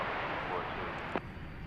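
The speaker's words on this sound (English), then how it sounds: "it's a FedEx MD-11 going up from the east side" A FedEx McDonnell Douglas MD-11 cargo jet climbing steeply after night takeoff from DFW Airport, a broad distant engine roar, steady and low, with a brief sharper noise near the end.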